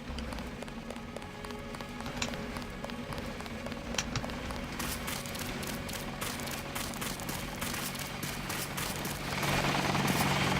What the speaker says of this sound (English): Helicopter, come back. Take me away.